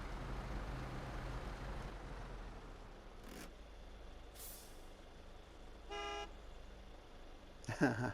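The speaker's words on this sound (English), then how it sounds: "Watch for the bird come out of the brush when I honk the horn here." A Tuz 108 Warthog truck in SnowRunner sounds its horn in a short blast over a low engine rumble, fairly quiet overall, followed by scattered sharper noises near the end.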